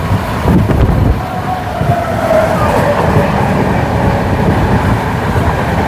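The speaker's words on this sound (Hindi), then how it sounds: "ये कौन सी ट्रेन अचानक से निकल रही है सामने से" A train rolls past close in front in a continuous loud rumble with faint rhythmic clatter of wheels on rails, the steady roar filling the whole stretch with no talk over it.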